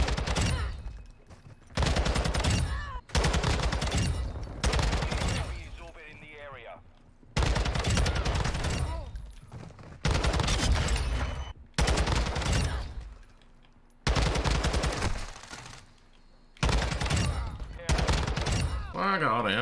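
Tac 56 rifle fire in Modern Warfare 2: about eight loud, close full-auto bursts, each lasting a second or two, separated by short quiet gaps.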